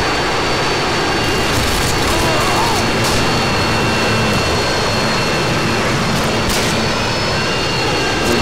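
A Harrier jet killstreak in Modern Warfare 2 on the Rust map roars steadily overhead, a loud sustained engine whine and rumble mixed with distant game noise and occasional sharp cracks.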